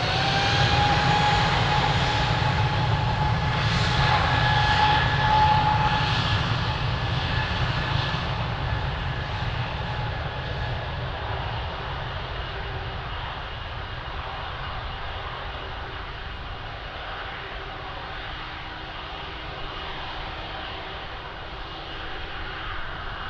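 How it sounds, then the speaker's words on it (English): An aircraft engine roars steadily at Lisbon Airport, a loud broad rumble with a high whine that slowly fades as the plane moves away, heard alone without voices. "amazing aircraft"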